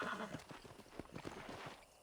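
Hooves of a horse in Red Dead Redemption clop in an uneven trot through the Old West, faint and low in level against the game's background noise.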